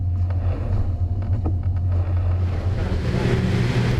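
A Sea Ray 400 Sundancer motorboat cruises at 30 knots through waves, a steady deep engine drone under rushing water and wind, with spray and hull slaps thickening toward the end.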